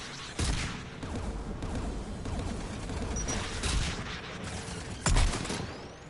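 Anti-aircraft guns firing in the sci-fi video game Mass Effect 3, heard as a continuous, dense barrage of rapid gunfire, with sharper, heavier blasts standing out near the start and again near the end.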